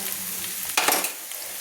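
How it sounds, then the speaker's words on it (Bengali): Ground turmeric, chili, coriander and cumin powders being stir-fried in a pan, a brief soft sizzle with one quick scraping stir midway. "দিয়ে আমি ভালো করে কিন্তু এবার মশলাগুলো কষিয়ে নিচ্ছি।"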